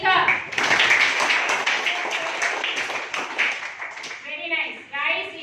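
A school class claps for a correct answer in a harvest-festival quiz, a close, busy burst of many small hands that thins out toward the end as children's voices chatter over it.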